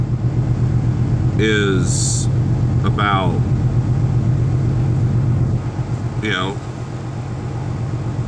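A truck engine idles in very cold weather, a steady low rumble running close and continuous beneath someone talking throughout.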